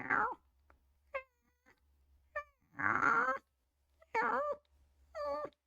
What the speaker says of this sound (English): That's what our kitten does.